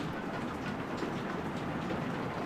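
Heavy rain pours down outside a house as a steady, dense broadband hiss, loud and unbroken throughout, with no voices.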